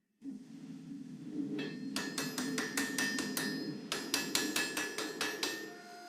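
A hand hammer rapidly strikes a damascus steel billet to close forge weld seams for a mosaic Bowie knife, about a dozen sharp ringing blows in quick bursts over a steady forge roar.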